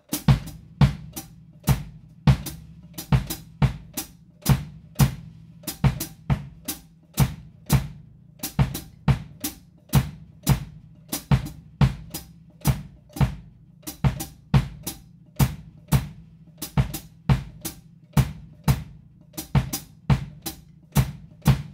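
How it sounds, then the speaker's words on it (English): A steady Latin drum kit groove: sharp clicking hi-hat foot strikes play a repeating syncopated clave pattern over low, regular bass drum thumps, played alone with no voices. "I'm going to play the clave with the hi-hat foot, bombo, and the bass drum."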